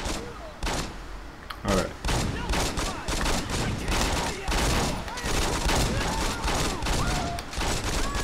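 Gunfire in Saints Row 2 crackles in dense, repeated bursts for the whole stretch, loud and close, with someone talking over it at one point.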